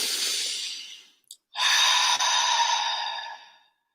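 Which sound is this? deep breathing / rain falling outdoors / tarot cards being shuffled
deep breathing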